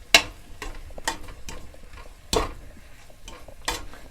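Chicken for koli pukkai is stirred in a pan over a low flame, giving a series of sharp scraping stirs at a steady pace with a faint sizzle in the gaps between them.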